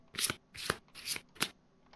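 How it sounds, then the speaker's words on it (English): Playing cards for the Kingdom Death board game are riffle-shuffled close by in four quick bursts, each a brief crisp flutter with short pauses between. "Flip these, shuffle them."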